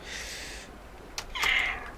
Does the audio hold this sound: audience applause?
no